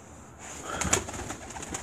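Pigeons coo softly in a quiet setting, a faint low murmuring call against light background noise.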